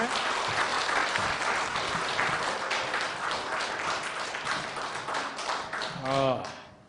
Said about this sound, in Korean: 우리 뜨거운 박수로 환영하도록 하겠습니다.